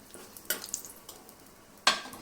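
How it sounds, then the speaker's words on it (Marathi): Cloves and black pepper sauté in a hot pan, giving a quiet sizzle with two sharp scrapes of a spoon against the metal. "चार लवंगा एक सात आठ काळी मिरी हे टाकायचे आणि एक दोन मिनटं परतून घ्यायचे"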